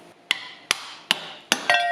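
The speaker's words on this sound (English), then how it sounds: "Hammer time." Four sharp metallic hammer blows land on a Mercedes C63 AMG differential, evenly spaced about a second apart, close and ringing briefly, followed by a clinking tail.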